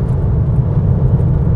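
Steady, close low hum of a VW T-Roc 2.0 turbo 4Motion SUV on the move, a smooth even engine and road drone with no revving or other sounds.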